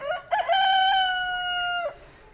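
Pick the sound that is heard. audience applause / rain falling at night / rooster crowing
rooster crowing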